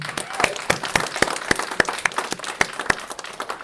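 Audience at a Post University partner-of-the-year celebration clapping, a scattering of hands giving sparse, uneven claps at moderate distance for a few seconds.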